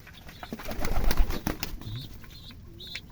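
Pigeons coo close by at sunrise, soft low calls mixed with brief fluttering bursts and a few faint higher chirps.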